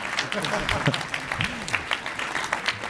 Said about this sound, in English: So maybe we can just give all of them a round of applause so that Sean doesn't feel so bad.